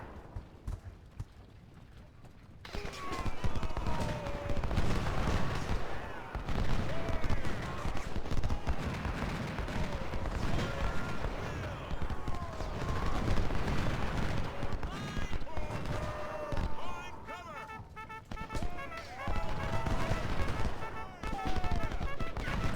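Dense, continuous Civil War gunfire and artillery rumble through Ultimate General: Civil War, rapid volleys and booms layered thickly with battle noise once a quieter opening gives way.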